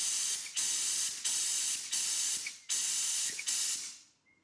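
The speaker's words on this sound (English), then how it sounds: "you just push this lever, and it by blowing the air it sucks out the brake fluid" Pneumatic brake bleeder on a Honda NC750X motorcycle drawing out brake fluid: a loud, steady air hiss broken by brief pauses into five bursts as the lever is pressed, fading away at the end.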